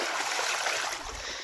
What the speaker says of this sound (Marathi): मोकर जोरात पाणी पडतंय